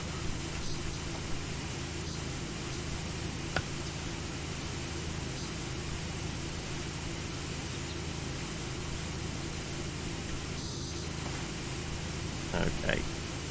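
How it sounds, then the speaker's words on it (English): A pressure washer spraying in the PowerWash Simulator video game makes a steady, dense hiss like white noise throughout, with a few faint clicks and what may be quiet voices underneath. "the white noise is definitely kind of making you feel sleepy"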